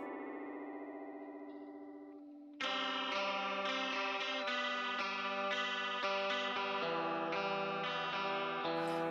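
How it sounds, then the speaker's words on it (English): Arturia Jun-6 Juno-style chorus effect set to a fast, vibrato-like rate on a sustained synth chord, starting with a quieter held chord and then jumping to a loud, dense chord with a steady wavering shimmer and no talking. "Kind of a cool vibrato sound."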